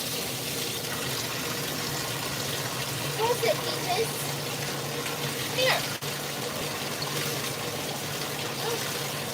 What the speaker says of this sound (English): Will you turn the pump on? Oh, you need more water.